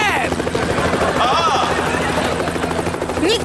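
A cartoon helicopter gives a loud, steady rotor whir throughout. Animated characters shout over it, with a few short swooping effects layered on top.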